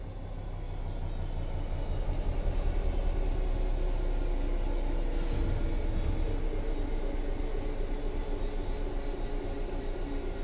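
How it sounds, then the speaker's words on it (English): A steady low train rumble from the video game Train Sim 3 rolls on evenly as the train coasts on level ground, a smooth continuous drone of wheels and running gear with no braking or horn. "The train will then coast on level ground, and the train will only slow down very gradually."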